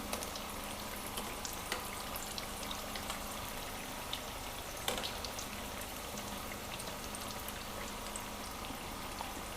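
Pakoras frying in oil on a low flame, a steady soft sizzle with small crackles and pops throughout, fairly quiet and close, with no talking.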